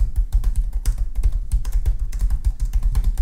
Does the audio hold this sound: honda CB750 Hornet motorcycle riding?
no